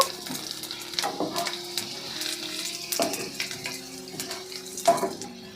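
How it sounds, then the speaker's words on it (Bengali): Ginger pieces and whole garlic cloves frying in a pan, a steady crackling sizzle broken by clattering stirs and utensil knocks, with no speech. "কয়েক টুকরো আদা কয়েকটা গোটা রসুনের কোয়া এবার এগুলো আমরা এক মিনিট মতো ভেজে নেব"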